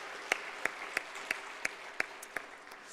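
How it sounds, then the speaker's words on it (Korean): A congregation in a Korean church service claps, here as a few sharp, evenly spaced claps about three per second, close and fairly quiet, with no other voices. "그분들 모두 한 해 수고하셨다고 격려의 박수 한번 보내주시죠"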